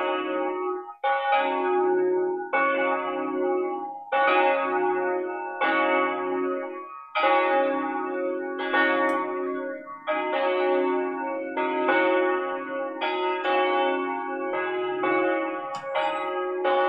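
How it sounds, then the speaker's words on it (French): Church bells ring in a steady sequence of resonant strikes, each blooming and overlapping the last, loud and close with a lingering echo. "les cloches, vous les entendez?"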